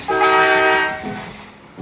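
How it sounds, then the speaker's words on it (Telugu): A train travelling in Andhra Pradesh sounds a loud, close horn blast that holds for about a second and then fades into lower rumbling rail noise. "ట్రైన్ ప్రయాణం ఆంధ్రప్రదేశ్"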